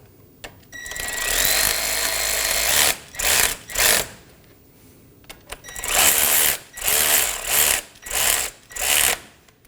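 A power tool whirs in short bursts while brake bolts are snugged down on a Nissan Maxima, several spins with brief pauses between them, close and fairly loud, no voices.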